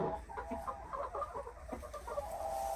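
Canadian Bresse chickens, a hen and a rooster, cluck in short, choppy bursts close by, a busy run of calls over a low steady background hum.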